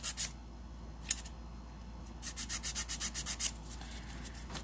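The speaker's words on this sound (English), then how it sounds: "Almost like if you were filing a square shape." Nail file rasping on acrylic nails while shaping them into a short almond form: soft, close scratchy strokes, with one burst of quick rhythmic rubbing near the middle and a few isolated swipes, no voices.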